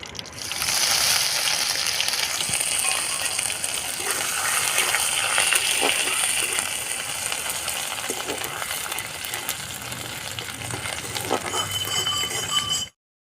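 Bay leaf and crushed ginger sizzle steadily in hot tempering oil for a Bengali shukto with drumsticks and bitter gourd, with a continuous crackling fry, occasional light clinks of a utensil, then a sudden stop near the end.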